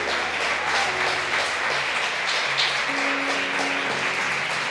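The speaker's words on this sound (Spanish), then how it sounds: "Vamos a darle un fuerte aplauso al Rey de Reyes" A church congregation at a Sunday service applauds loudly and steadily, with dense clapping from many hands throughout and faint voices and instrument notes underneath.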